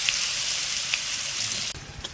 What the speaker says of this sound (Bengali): তেলে দিয়ে দিচ্ছি 5 ফোড়ন, দিয়ে দিচ্ছি পেঁয়াজ